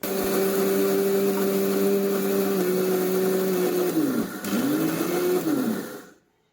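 A mixer grinder whirs steadily at close range, grinding roasted rice into a fine paste, its motor pitch dipping and recovering near the end before cutting off abruptly into silence.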